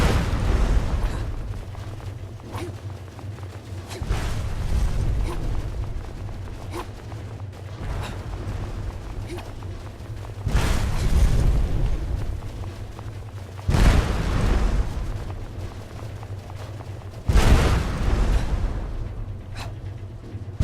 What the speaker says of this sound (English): I guess all that swinging is just going to keep causing her to have explosions.